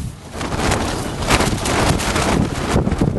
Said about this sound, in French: Ça, c'est une bonne petite rafale de vent.